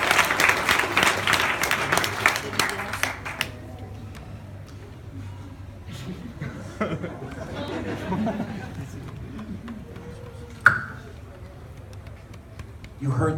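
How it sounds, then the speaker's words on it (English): An audience at a mentalist show applauds a volunteer, with dense clapping for about three seconds, then fading into murmuring chatter, footsteps and a sharp knock. "Give him a round of applause."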